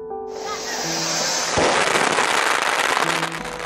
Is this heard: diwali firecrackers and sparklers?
yes